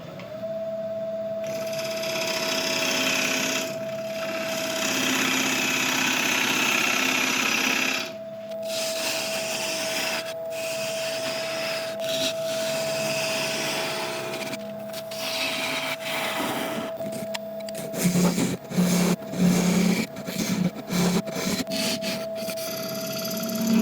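A woodturning gouge cuts into the foot of a spinning cracked apple log on a lathe, a steady rasping scrape with a constant motor hum, broken by brief pauses and short choppy cuts near the end.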